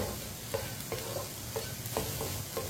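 A spoon stirs beaten eggs into frying okra in a pan, giving rhythmic scrapes roughly every half second over a continuous close sizzle.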